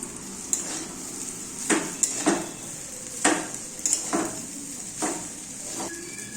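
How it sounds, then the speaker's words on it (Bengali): Boiled pasta sizzles in a frying pan and is stirred, with a spoon scraping and clinking against the pan in repeated strokes over a continuous close sizzle. "সেদ্ধ করা পাস্তাটা দিয়ে দিচ্ছি"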